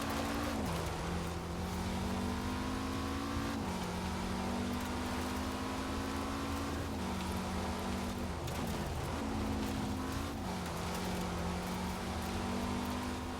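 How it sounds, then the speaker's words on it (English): Renault 5 Turbo engine in an 80s racing video game: a steady, droning engine note that rises and drops with each gear change and lift of the throttle, loud and continuous throughout. "Just find yourself fighting for control a lot with a 5 turbo."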